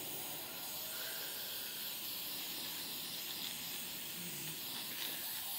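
Rust-Oleum spray paint can hissing in one steady, continuous spray of moderate loudness, with no pauses and no voices.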